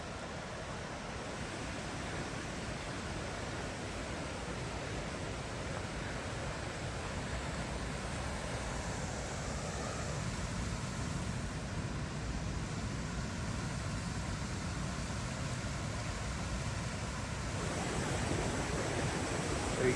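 Steady broadband rush of a mountain waterfall on a snowy winter morning, a constant even roar from a moderate distance with no voices.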